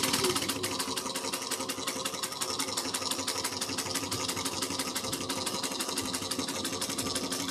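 A sewing machine runs steadily, back-stitching through the thick layered base of a woven willow tote, its rapid needle chatter continuous and close throughout.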